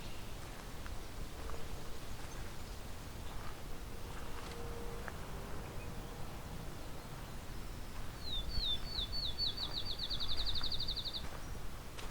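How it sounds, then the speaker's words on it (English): A field sparrow sings outdoors, its accelerating run of high, sweet notes rising faintly above steady wind and ambient hiss, with fainter chirps earlier in the walk. "Field sparrow."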